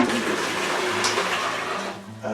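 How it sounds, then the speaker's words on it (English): A litre of boiling water poured into a plastic fermenting bucket for a Chardonnay wine kit, a steady rushing splash lasting a couple of seconds, close and fairly loud, with no talk. "we need to take a litre of boiling water and we need to put it into our fermenting bucket"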